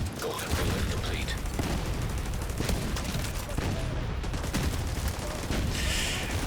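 Gunfire in a first-person shooter game, a steady run of crackling shots and impacts filling the whole stretch with game sound effects and a dense backdrop, no one speaking over it.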